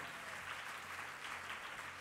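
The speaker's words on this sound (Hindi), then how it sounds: "जोरदार ताली बजाइए हनुमान जी के नाम पर" An audience claps at a Hindi devotional talk about Hanuman: dense, steady applause from a crowd, fairly faint and distant, lasting about two seconds without pause.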